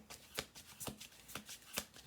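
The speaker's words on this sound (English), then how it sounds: "I'm going to do 2 more shuffles." A deck of cards is shuffled near and quietly, a few quick riffling bursts spaced through the moment, soft papery flutters over low room noise.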